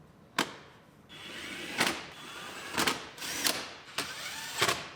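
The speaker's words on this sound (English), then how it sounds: "Put all our screws back in there" Screws driven back into a 2019 GMC Sierra Denali HD door panel with a power driver: five short, sharp whirring bursts spaced about a second apart, close and clear.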